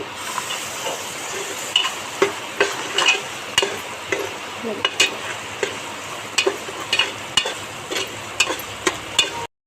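Green peas stir-fried in hot oil in a pan for vegetable pulao: a steady close sizzle with a spatula scraping and stirring in repeated strokes.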